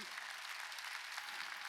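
Church congregation applauding during a Sunday worship rally, a steady, fairly faint wash of clapping from many hands throughout, with no clear voices over it.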